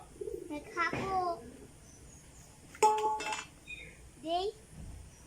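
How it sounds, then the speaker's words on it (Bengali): Pigeons coo softly at a pigeon farm, a few short warbling calls spread out over quiet background, with faint voices and light clatter nearby. "কবুতর বাইরে আসছে না কেন"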